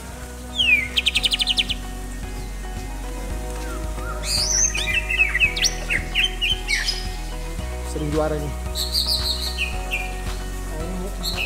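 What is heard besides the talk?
oriental magpie-robin singing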